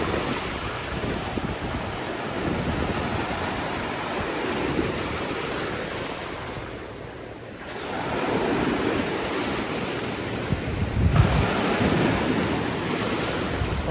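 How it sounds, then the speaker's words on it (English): Ocean waves roll in at a beach on a calm day, a steady broadband wash of surf with swells rising and falling, mixed with light wind noise on the microphone and no talk. "There goes waves rolling in though."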